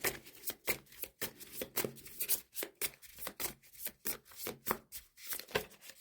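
Tarot cards are shuffled steadily, a run of dense papery riffles and slides repeating in a quick, even rhythm, close and moderately quiet, with no voice over it.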